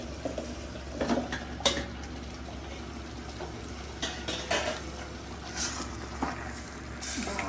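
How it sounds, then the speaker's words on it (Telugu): Mutton pieces stirred into tomato masala in a pan, with soft, irregular scraping and wet clinks from a spoon against metal over a low steady hum, close and fairly quiet. "బాగా మిక్స్ చేయాలన్నమాట"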